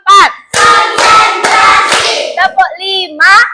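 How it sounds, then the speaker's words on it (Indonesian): A class of children claps hands in a counted rhythm, sharp bursts of clapping separated by brief pauses, with children's voices chanting along close by. "Tepuk 1, tepuk 2, tepuk 3, tepuk 4"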